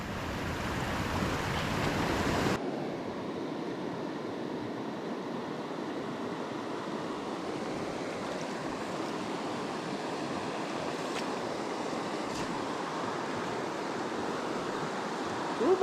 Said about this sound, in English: Love climbing a waterfall when I have a chance.